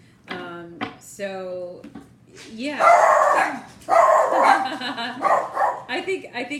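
A pet dog lets out a short run of sharp indoor barks near the start, followed by someone talking at length.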